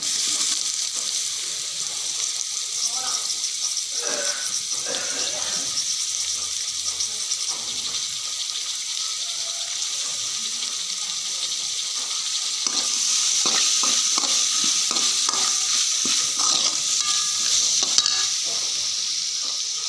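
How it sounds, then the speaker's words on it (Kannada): Tomato and green chilli frying in a pan with ginger garlic paste, a continuous close sizzle broken by scraping stirs, swelling louder in the second half. "ಟೊಮ್ಯಾಟೊ ಮತ್ತು ಹಸಿಮೆಣಸನ್ನು ಹಾಕಿ ಫ್ರೈ ಮಾಡಿ"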